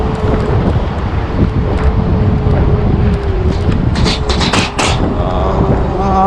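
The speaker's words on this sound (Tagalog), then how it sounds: "ang lakas pa ng hangin" Strong wind buffets the microphone while riding along a road at speed, a constant rushing roar with gusty swells and a faint hum beneath, no clear speech.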